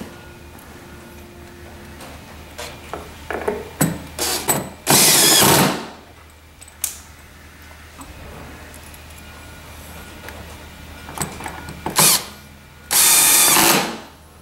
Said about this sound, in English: we can replace the two screws underneath to secure it